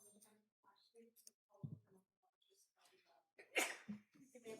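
A single sneeze in a courtroom rings out near the end of a quiet stretch, preceded by soft rustles and shuffling, with faint talk around it.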